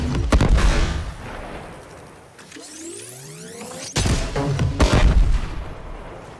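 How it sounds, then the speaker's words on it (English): Heavy gunfire bursts from a Warframe weapon's alternate fire give way to a hollow, sucking implosion swell of swirling tones, then a loud, booming blast erupts with crashing debris. "all this sound gets kind of sucked out right before the big explosion"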